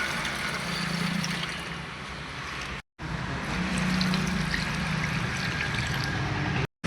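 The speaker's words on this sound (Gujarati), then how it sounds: "એક ડબલું નાખીએ તો એક ઝાડવું આખું ભરાઈ જાય પાણી, જો છલકી ગયું" Water poured from a container onto a tree sapling, a close, steady gushing trickle that pauses briefly between two pours.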